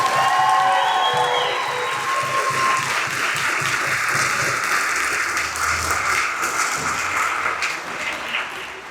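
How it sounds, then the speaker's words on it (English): Sustained applause from a large crowd at a high school winter band concert, dense steady clapping with some cheering mixed in, holding strong throughout before easing slightly at the end. "can we get them another round of applause?"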